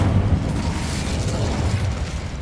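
A fire spell cast in the Hogwarts Legacy video game, heard as a sustained, dense whooshing burst of flame with a heavy low rumble that holds steady for a couple of seconds.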